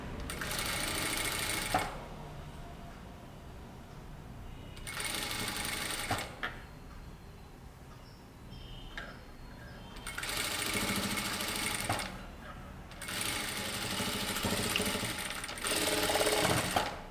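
A sewing machine stitches a blouse button placket in several loud, close runs of rapid whirring, separated by short pauses of quieter handling.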